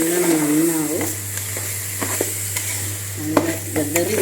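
Rice for chicken biryani is stirred and fried in coconut oil with whole spices, giving a constant sizzle with repeated spoon scrapes and clinks against the pan, while a voice talks briefly at the start and again near the end.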